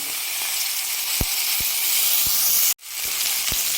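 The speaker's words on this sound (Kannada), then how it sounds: "ಚೆನ್ನಾಗಿ ಫ್ರೈ ಆಗಲಿ ಇದು." Chopped tomatoes and onions sizzle steadily in hot oil in a pan for mutton curry, a continuous close hiss with a few soft clicks and a brief cutout near the end.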